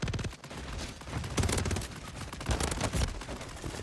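Rapid bursts of automatic gunfire in Call of Duty: Modern Warfare 3, loud, close, dense volleys repeating in uneven waves.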